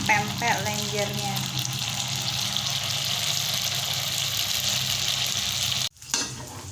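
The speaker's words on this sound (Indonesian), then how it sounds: "Berikutnya aku goreng pempek lenjernya." Tapioca-flour pempek lenjer sizzles steadily in hot frying oil, a continuous crackling hiss with a brief clatter early on and a sudden break near the end.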